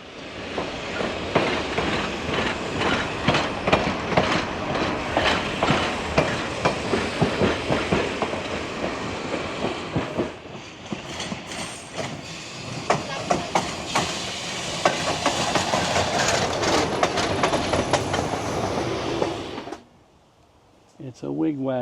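A train rolling on rails nearby, steady clattering wheel noise with rhythmic clicks and some metallic squeal, a brief lull midway and a quieter gap near the end, with voices talking over it.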